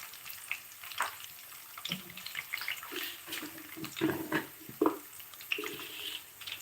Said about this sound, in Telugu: సో ఇప్పుడు ఈ పప్పులన్నీ బాగా వేపుకోవాలన్నమాట